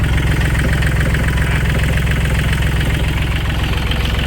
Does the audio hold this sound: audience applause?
no